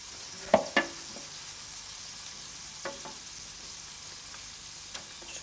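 Wild boar meat sizzling in melted fat in a pan, a couple of sharp spits and clatters near the start, then a low steady frying hiss with a few faint knocks, close by, no talking.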